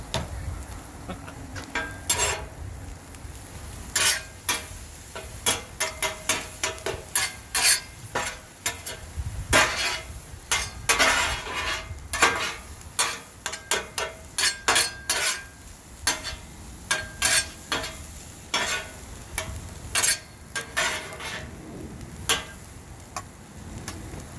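Egg roll in a bowl ingredients with onions and veggies stirred on a Blackstone griddle hibachi-style: a steady sizzle broken by rapid, repeated metallic spatula clicks and scrapes in bursts, close and prominent throughout.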